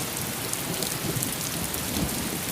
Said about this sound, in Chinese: 你看这瓢泼大雨